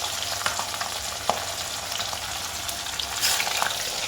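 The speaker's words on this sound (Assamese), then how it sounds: "আৰু মাছ ভাজিলে একদম সাৱধান" A mix of koi and rohu fish fries in hot oil, giving a steady, close sizzling hiss with scattered pops and spatters throughout.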